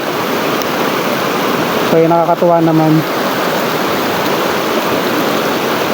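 Constant rushing roar of the Dao River flowing past a riprap bank in Lupi, Camarines Sur, Philippines, with someone briefly speaking over it partway through.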